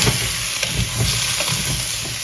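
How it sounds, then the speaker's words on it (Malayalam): Lemons sauté in hot sesame oil, a steady, close, dense sizzle and hiss with faint stirring, no voices. "ഈ നാരങ്ങയൊക്കെ നമ്മളൊന്ന് കുറച്ച് നല്ലെണ്ണയിൽ ഒന്ന് വഴറ്റിയെടുക്കാം"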